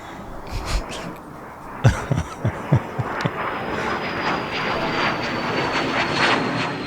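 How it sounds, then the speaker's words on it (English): Jet-themed intro music for an aviation podcast, blended with a roaring aircraft engine: a steady broad rumble under a few punchy beats early on, moderately loud and continuous, with no voices. "Fancy jet music."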